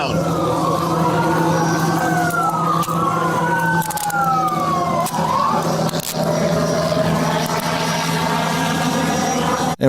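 Police car siren wailing in slow rising and falling sweeps, loud and steady over a constant low engine hum, with a few sharp knocks mixed in.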